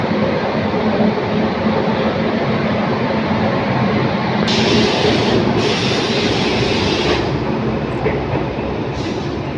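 Mannai Express train pulling out of Chennai Egmore, a loud, steady rumble of rolling wheels and carriages with a continuous clattering wash throughout.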